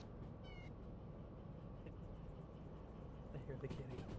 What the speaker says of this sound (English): I hear the kitty.